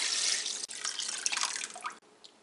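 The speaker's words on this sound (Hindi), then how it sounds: "ये सारा वाटर डाल लेते हैं।" Water is poured into a pot of cooked spices for beef nihari, a steady close splashing stream that breaks off briefly and ends with a few drips.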